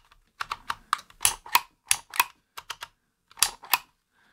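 A Dymo Omega handheld label embosser punches letters into plastic label tape, giving a series of crisp, close clicks and clacks in irregular bursts, each letter a sharp snap in a quiet room.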